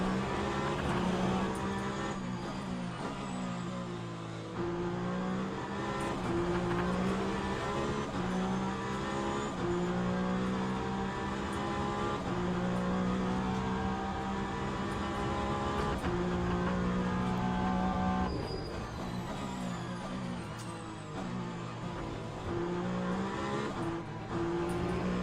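Race cars in the WEC racing game at Monza, including a Porsche and a BMW, a continuous loud engine drone with rising and falling revs through gear changes, sustained near and steady.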